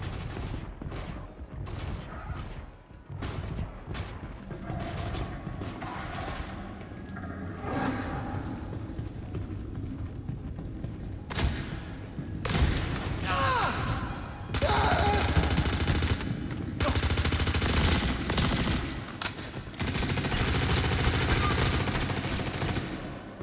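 Gunfire in a firefight between criminal factions in Star Citizen: rapid bursts of automatic fire and single shots crackling at varying distances, later building into dense, sustained volleys.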